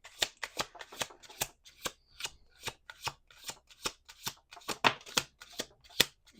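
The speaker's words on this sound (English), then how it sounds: "Last shuffle." Tarot cards shuffled by hand at close range, a fast string of crisp papery snaps and flicks in an uneven rhythm, with no voices.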